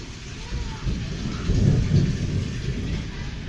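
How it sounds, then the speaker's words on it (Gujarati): A deep rumble of thunder rolls and swells over the steady hiss of heavy, wind-driven rain falling on surfaces in Amreli, Gujarat. "તમે વાદળનો અવાજ સાંભળી રહ્યા છો"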